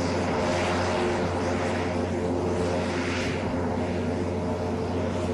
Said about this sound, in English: Once the plane's preparations have been completed, it is taxied to the runway